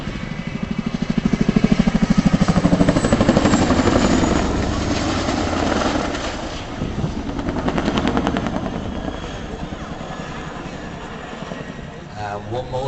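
Chinook twin-rotor helicopter at an air show, its heavy rotor thudding loud and steady nearby with a rapid rhythmic chop, swelling in the first seconds then holding at a slightly lower level, with a commentator's voice running over it.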